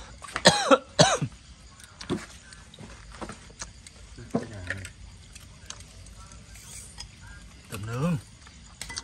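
Coughing from a person drinking beer during an outdoor shrimp grilling session on a cold, windy afternoon; a few sharp coughs near the start, another burst around the middle and one near the end, with faint background noise between.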